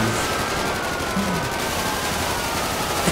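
Sustained rapid gunfire in a video game shootout aimed at gas tanks, dense overlapping shots forming a continuous fusillade at steady high loudness from start to finish.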